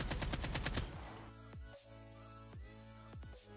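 An AK-47 without a stabilizer mod fires in Call of Duty Mobile as a rapid full-auto burst of loud, close shots lasting about a second, then a few scattered clinks and a faint lingering game tone.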